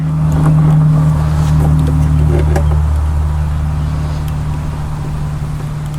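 Lawn mower engine running after a tune-up, a loud close steady motor drone with a low rumble that eases slightly partway through, no talking.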